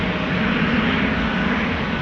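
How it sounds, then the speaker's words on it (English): A Boeing 777-200 rolls down runway 18 left at Amsterdam Schiphol for takeoff, its engines giving a steady, loud broadband roar that stays constant throughout. "777-200 is rolling down runway 18 left on its way to South Africa."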